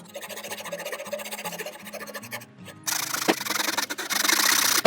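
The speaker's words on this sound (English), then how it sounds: "I'm going to start here and get a nick and then slowly lay down my saw following my line." A hand saw cuts a dado across a wooden boot jack workpiece, its strokes at first quieter and steady, then turning louder and harsher with a rasping, even rhythm, close and alone.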